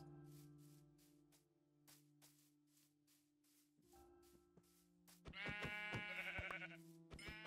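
Sheep in a video game bleat once near the end, a loud wavering call over a quiet game backdrop of soft tones and clicks.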